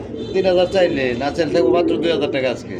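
Pigeons coo softly, including a male bird, with repeated low throaty calls mixed under someone talking nearby.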